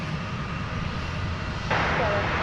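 Airliner on a runway at DFW airport, a steady broad engine roar that swells louder partway through, close and continuous with no talk over it.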